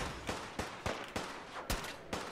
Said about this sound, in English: Not even sure they're shooting at me.